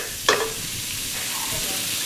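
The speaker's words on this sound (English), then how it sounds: "let's stir it around." Red lentils fry in a pot under a steady, loud sizzle. A spoon stirs them once with a short scraping clatter near the start.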